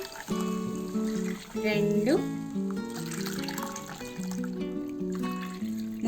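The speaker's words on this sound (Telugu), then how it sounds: "3 కప్పులు వాటర్ యాడ్ చేసుకోవాలి." Water poured from a cup into a cooking pan for rava upma, a trickling, splashing pour in bursts at close range, under someone talking throughout.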